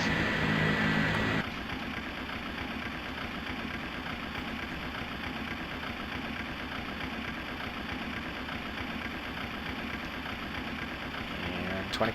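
Boeing 737 engines spooling up in the FS2004 flight simulator, a Southwest 737 at Orange County, a steady broadband whine and roar that holds evenly after an opening shift, with cockpit voices talking over it.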